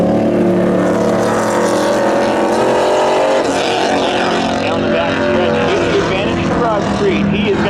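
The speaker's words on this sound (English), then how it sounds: "We have Gil Bradstreet on the outside in that bookless 1989 Camaro going up against" A 1989 Camaro at a spectator drag racing event roars at full throttle, a loud, sustained engine howl with shifting pitch as it races, while an announcer's voice runs underneath.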